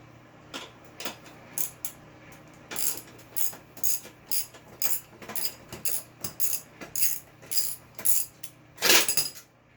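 Repeated ratcheting bursts from a wrench working a bolt loose on a riding mower deck, a quick series of clicking strokes with short pauses between them, close and fairly loud, with a steady low hum underneath.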